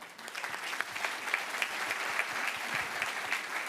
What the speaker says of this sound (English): Congratulations to you, Danielle, and applause to you